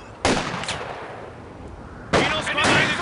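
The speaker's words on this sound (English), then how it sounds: "Machine gun." Two short, sharp bursts of machine-gun fire in the World War II strategy game Company of Heroes 2, separated by a couple of seconds of quieter battlefield ambience.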